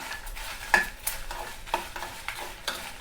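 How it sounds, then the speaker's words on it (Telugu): Red chillies and curry leaves fry in a pan, giving a soft steady sizzle with occasional stirring scrapes and light clicks, close and without talk. "ఇప్పుడు ఫిఫ్టీన్ గ్రామ్స్ మిరపకాయలు రెండు రెబ్బలు కరివేపాకు వీటిని కూడా వేయించుకుందాము"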